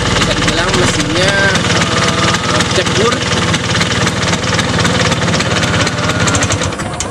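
A Vespa PX 150 scooter's engine runs close and loud, a continuous rattling, throbbing drone, with a voice talking faintly underneath.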